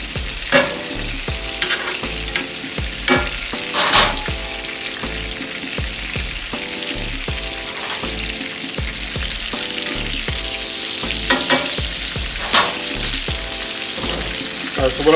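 Rib eye steaks sear in a hot pan with a loud, continuous sizzle. Sharp crackles and spatters burst through it at intervals, up close and with no talking.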